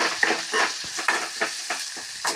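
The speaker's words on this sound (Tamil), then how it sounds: "நல்லா வெங்காயம் வதங்கட்டும்" Onions softening in a hot pan with garlic for a Tamil mashed-dal dish give a continuous near sizzle broken by regular stirring strokes and scrapes, with no voices.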